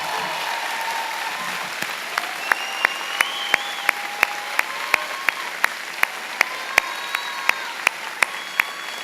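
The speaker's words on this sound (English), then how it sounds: "Let's all give them a round of applause." Steady audience applause at a high school graduation ceremony, a continuous bed of clapping with a few sharp, loud individual claps standing out near the microphone.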